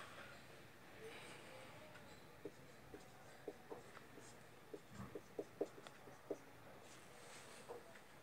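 Writing out a memory trick during an online class, faint scratchy pen or marker strokes coming in short irregular bursts over a quiet room hiss, with no speech.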